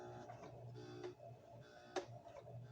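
A sewing machine stitches a porcelain doll's hat, making a couple of faint, brief mechanical clatters with quiet pauses between them.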